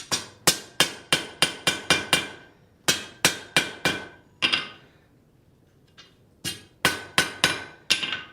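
Blacksmith forging a tripod, striking hot metal on an anvil with a hammer: loud, close, ringing blows in quick rhythmic runs separated by short pauses, with no talk.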